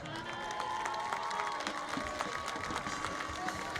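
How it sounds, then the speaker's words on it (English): A football stadium crowd applauds and cheers the 2018 homecoming court at a St. Joe Central versus Liberty North game, a broad, distant wash of clapping with a steady hum beneath. "Please give a final round of applause for our 2018 homecoming corps."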